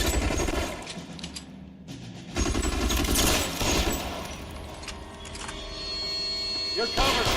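Shootout gunfire in the video game L.A. Noire, loud bursts of rapid and single shots in fusillades, mixed with in-game voices calling out over the battle.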